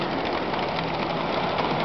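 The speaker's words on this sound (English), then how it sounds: "Let me pull this train around" A Walthers model railway train engine runs with a steady, close mechanical hum and faint rhythmic clatter, moderately quiet and unbroken, with no talking.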